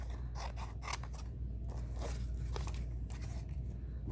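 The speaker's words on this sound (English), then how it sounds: "And now I'm going to take all 4 papers at once. I have my whole pile, and I'm going to cut on that line." Scissors snipping through a stack of four sheets of paper at once for sketchbook pages, a series of close, crisp crunching cuts with small mechanical squeaks between strokes.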